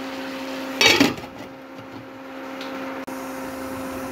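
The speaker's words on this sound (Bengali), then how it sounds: "এবার আমি ঢাকা দিয়ে দেব।" A lid lands on a cooking pot in which river fish is being cooked, giving one brief, fairly loud metallic clatter over a steady background hum.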